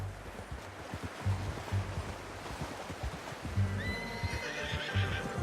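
A horse in the game Red Dead Redemption 2 neighs with a rising whinny over steady clip-clopping hooves and a low rumbling background, fairly close and clear.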